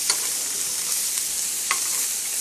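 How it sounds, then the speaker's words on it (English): Venison steaks sear in a frying pan and are turned over, giving a steady, dense sizzle throughout with a few soft clicks of the meat being moved, and no talking. "You see, they're now seared as I turn them over."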